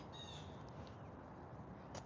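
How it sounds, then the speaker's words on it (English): Faint crow caws in the distance over a low outdoor morning rumble in a garden, a few scattered calls. "The birds are out this morning."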